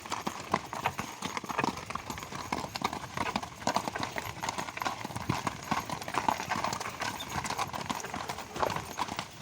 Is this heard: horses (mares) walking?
yes